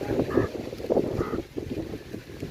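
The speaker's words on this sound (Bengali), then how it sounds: "কি সুন্দর বাতাস বইছে" Wind buffeting the microphone beside the Ichamati river in Bangladesh, gusty low rumbling in uneven bursts, close and moderately loud with no talk.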